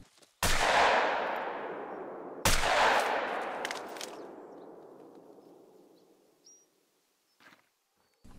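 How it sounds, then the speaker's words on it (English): Two loud shotgun blasts about two seconds apart, fired at bison in the hunting game theHunter: Call of the Wild, each followed by a long rolling echo that fades slowly into quiet. "My fault using the shotgun."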